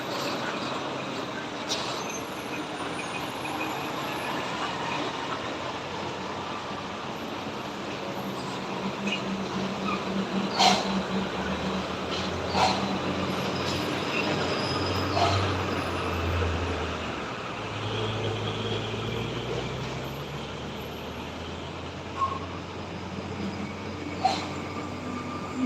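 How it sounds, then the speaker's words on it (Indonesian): A heavy truck labours along the wet, slippery Sitinjau Lauik mountain road, a steady broadband rumble of engines and traffic with low engine drones swelling mid-way and occasional sharp knocks, continuous and fairly close. "agak licin jalannya, makanya truk dari bawah itu harus mengambil ke kanan"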